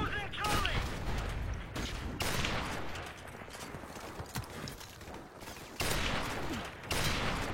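R700 rifle fire in a video game: several loud, broad bursts of shots come in separate blocks with quieter game sound between them, and a voice is faintly present.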